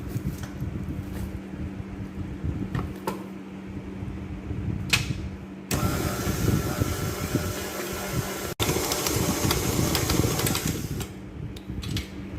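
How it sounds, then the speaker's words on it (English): Stand mixer kneading ripe breadfruit bread dough, a loud, steady motor drone that gets rougher and louder partway through, with knocks and rattles from the bowl and no talking. "And then we are going to place it into, or back into our mixer."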